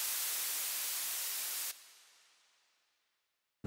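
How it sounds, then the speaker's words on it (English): A loud burst of synthesized hissing white noise from the Synapse Audio Dune 2 synth holds steady, then drops sharply and fades away to silence, with a brief click at the very end. "Maybe you just want a little pulse of white noise."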